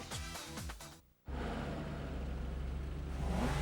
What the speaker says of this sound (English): It's a Ford Mustang GT with one of the baddest, most powerful engines on the planet.